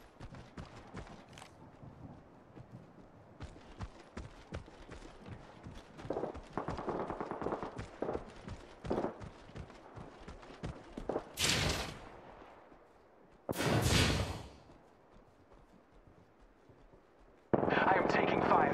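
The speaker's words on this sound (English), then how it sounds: "I am taking fire." Gunfire in the Apex Legends battle royale game, rapid bursts of shots crackling through the mix alongside other combat effects, with loud broadband blasts near the end and an in-game announcer voice talking over much of it.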